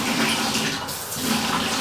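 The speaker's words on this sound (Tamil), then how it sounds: "ஆக்சுவலாக வந்து இது ஓப்பன் பண்ணாலே தண்ணின்னு வந்து நிற்க மாட்டேங்குது பாருங்கள்." Water from a bathroom tap fitting runs steadily at low pressure, a continuous close hiss and splash with no pause and no voices.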